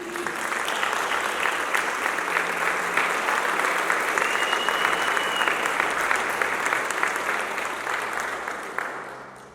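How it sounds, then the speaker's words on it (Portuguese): A church congregation at a Sunday service claps steadily and loudly together for about nine seconds, a dense sustained round of applause that tapers slightly at the end. "Uma salva de palmas para Jesus."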